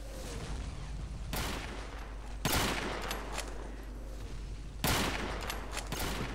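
Bursts of gunfire in the Hidden & Dangerous 2 video game during a hilltop bunker assault in Burma, with three sharp, loud volleys standing out over a steady rumble of continuous battle noise and no talking.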